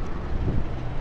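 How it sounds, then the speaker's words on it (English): Heavy wind buffeting the microphone outdoors at a food cart in Phoenix, Arizona, a loud, low, continuous rumble with gusty swells. "It's so windy."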